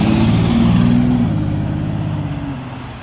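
Porsche sports cars rumble past at a car meet, loud and close with a steady engine drone and a shifting tone that slowly fades as they move away.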